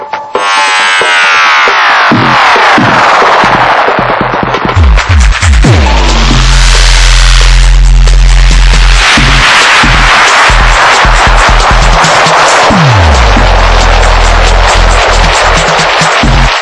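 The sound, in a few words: DJ mixer spiral tape delay effect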